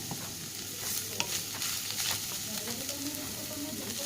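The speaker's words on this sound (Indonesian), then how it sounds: "kita aduk dulu sampai rata" Mashed tuna being stirred in a frying pan, a spoon scraping and tapping against the pan over a soft, continuous sizzle, fairly quiet and close, with no talking.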